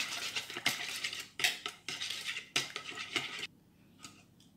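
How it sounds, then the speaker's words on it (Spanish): Eggs are beaten in a bowl with a utensil for a flan of condensed milk, giving rapid, close clattering strokes in several bursts that then stop into near silence. "he echado en un bol los huevos, los vamos a batir así un poco"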